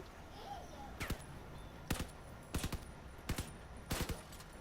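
Machine gun fire strikes a buggy in the Crossout vehicle combat game, arriving as five short, sharp bursts at fairly even intervals over steady background game noise.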